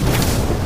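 Incendio fire spell cast in Hogwarts Legacy, a short, loud, rumbling whoosh-boom of flame lasting under a second.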